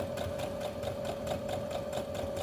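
A sewing machine stitches fabric face mask pieces, its needle running in a fast, even mechanical rhythm with a steady hum, close and continuous.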